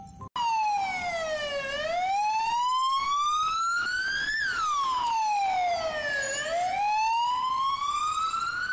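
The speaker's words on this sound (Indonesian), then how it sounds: "Ini mobil ambulan" A toy ambulance plays an electronic siren that sweeps smoothly up and down in pitch, continuous, loud and close, running alone for several seconds.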